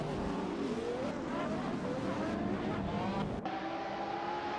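Race cars roar steadily in a hypercar racing simulation game at Road Atlanta, with continuous engine drone and rising pitch sweeps as cars accelerate and shift, loud and dense throughout with a brief drop near the end.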